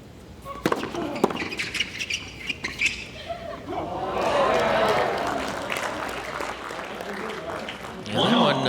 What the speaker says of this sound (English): And that one elicited a few oohs and ahs from the crowd.